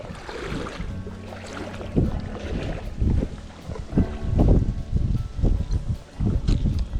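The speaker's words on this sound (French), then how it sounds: "Oh, ce vent qu'il y a." Gusty wind buffets the microphone in uneven rumbling bursts, loud and close, with faint water and boat noise underneath, beside a small trout stream.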